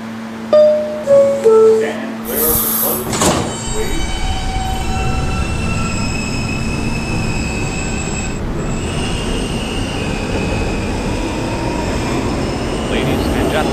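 A B subway train rumbles along the rails with a steady roar, brief squeals and chimes near the start, then a continuous loud rolling drone.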